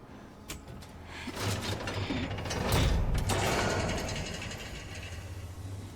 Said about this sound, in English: we're gonna switch the conveyor belt so that we can get over to the incinerator room